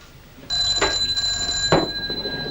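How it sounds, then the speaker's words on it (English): An old-fashioned telephone bell in a 1952 film rings loud and close, a sustained metallic trill starting abruptly and continuing with a couple of brief clunks over it. "You're wanted on the blower, Sergeant Who"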